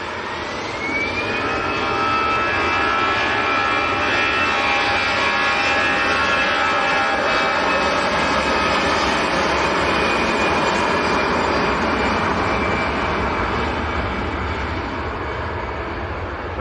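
An EasyJet Airbus A320 jet at Manchester Airport gives off a loud, sustained engine roar with a rising whine that holds steady throughout and fills the whole stretch with no talk.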